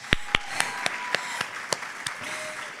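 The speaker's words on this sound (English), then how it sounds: "Let's give her a round of applause." Sparse, distinct hand claps ring out at a student group showcase, about ten sharp claps at a fairly even pace that fade slightly, with a faint tone lingering beneath.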